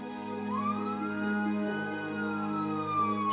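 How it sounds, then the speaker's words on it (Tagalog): Police siren sweeping in a slow rising and falling wail over a steady low drone, moderately loud and continuous, with no talking. "Saka may narinig na sirena ng pulis noon"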